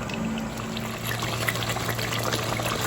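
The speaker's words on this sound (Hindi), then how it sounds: "मैं इस पॉइंट पे दही ऐड कर देती हूँ" Yogurt poured into chicken cooking in a pot, giving a steady wet pouring and trickling sound over low background hum, continuous and fairly close.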